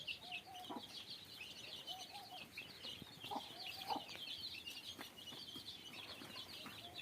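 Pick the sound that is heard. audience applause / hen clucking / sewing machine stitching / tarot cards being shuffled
hen clucking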